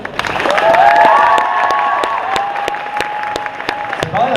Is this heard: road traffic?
no